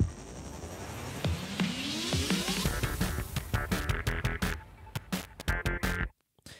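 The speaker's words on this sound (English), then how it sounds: "There was this stinger playing, whoop, going into the gameplay music." A game music stinger sweeps upward into the gameplay music, a rising whoosh followed by punchy rhythmic hits that build in intensity, then cut off abruptly into silence.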